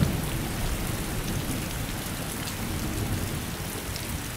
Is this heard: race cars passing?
no